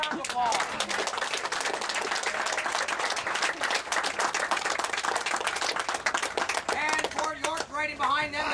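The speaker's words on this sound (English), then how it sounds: "give them a round of applause." Outdoor crowd applauding loudly and steadily at a historical military reenactment at Fort George as uniformed units march past, dense clapping filling the whole stretch with some voices mixed in.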